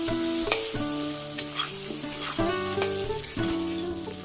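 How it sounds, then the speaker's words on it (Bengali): Potatoes frying in a pan while being stirred, a steady sizzle under repeated scraping and knocking strokes of the spatula, with music-like tonal hum running through; no talk. "আলুগুলোকে ভালো করে ভাজা হয়ে যাবে,"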